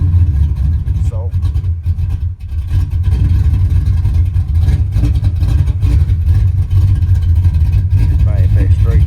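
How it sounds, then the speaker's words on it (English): A customer's carburetor-equipped car idles steadily right after a carburetor tune-up, its low engine rumble loud and close, even and continuous with only slight dips. "Running perfect too. Idling good on this car."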